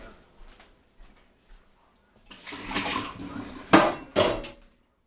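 Water runs into a sink while hermit crab shells are rinsed, a short hissing stream broken by two louder splashing bursts after quiet clicks and taps.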